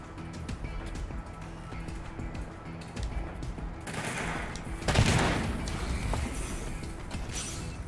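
A heavily modded gun in the game Wasteland 3 fires in a sustained fusillade of rapid shots, with a louder impact burst in the middle, over a steady game soundscape.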